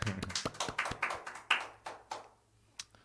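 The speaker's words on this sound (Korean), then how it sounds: "네, 새해를 주신 하나님께도 감사 박수하겠습니다." A church congregation at Davita Church gives a short round of applause during Sunday announcements: scattered, uneven claps over about two seconds, thinning out, then a single late clap, fairly close and moderately loud.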